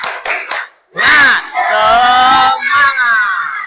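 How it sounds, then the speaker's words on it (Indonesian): A classroom group shouts a rhythmic spirit chant together with loud voices and some clapping, energetic and close. "Mulai lagi, tepuk semangat."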